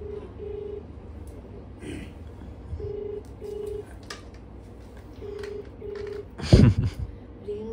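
Phone keypad tones from someone dialing a number on a mobile phone: short, even beeps in small groups, close and clear, ending with a louder handling clatter.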